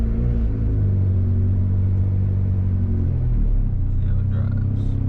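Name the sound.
turbocharged Honda Civic driving off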